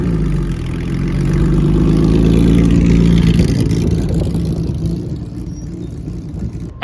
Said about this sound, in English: one of the only places in the world where you will see a Jaguar D-Type, a classic 1950s Le Mans race car